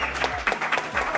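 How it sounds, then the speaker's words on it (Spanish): Applause for Morocco after a World Cup 2022 win, brief and fairly quiet clapping heard under a voice talking over it. "Aplauso para Marruecos, caray, se lo ha merecido."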